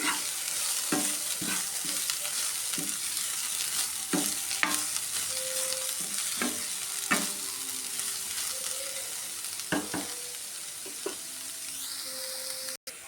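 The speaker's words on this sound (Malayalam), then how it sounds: "നന്നായിട്ട് ഇളക്കി കൊടുക്കാം." Beetroot thoran being stirred in a pan after mustard seeds have popped, with steady frying sizzle and repeated scraping strokes of a spoon, close and alone without speech.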